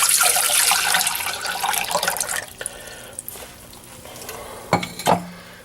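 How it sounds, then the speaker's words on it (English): Water pours and splashes into a brewing pot for a yeast starter, loud at first then tapering to a thinner trickle, ending with a couple of brief clanks and splashes. "adding our water to our pot"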